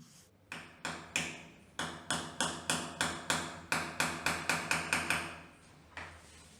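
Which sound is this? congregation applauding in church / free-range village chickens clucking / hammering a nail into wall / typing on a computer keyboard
hammering a nail into wall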